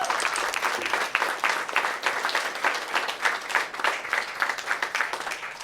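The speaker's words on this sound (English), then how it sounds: "Let's give a huge round of applause to our staff, Mr. McDonald and Mr. Baldwin." Audience at a middle school percussion camp applauding, steady loud clapping from a crowd that continues throughout without pause.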